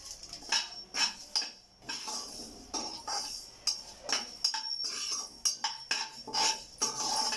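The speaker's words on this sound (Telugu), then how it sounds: "ధనియాలతో పాటు జీలకర్ర వేయిస్తున్నానండి" Coriander and cumin seeds being dry roasted and stirred in a metal pan, a quick irregular series of scraping clinks and rattles from a spoon against the pan, close and fairly loud, with no talking.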